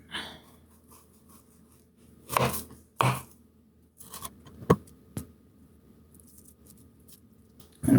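A knife chops an onion on a cutting board in a backyard kimchi preparation, a few sharp separate cuts spaced apart with quiet pauses between, close and crisp, no talking.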